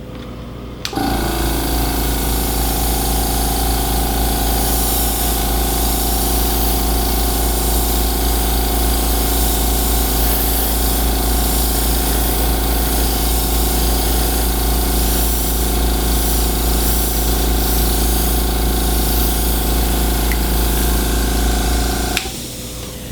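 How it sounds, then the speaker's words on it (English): A steady mechanical hum and hiss runs unbroken for about twenty seconds, an airbrush spraying a fine mist of colour onto a cake, then cuts off. "I've aimed the airbrush, or you spray your mist at the bottom edge of the cake"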